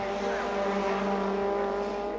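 A race car at the 2000 Macau Tourism Office Cup, still running after possible suspension trouble, gives a loud, steady, close engine drone that holds at a constant pitch throughout.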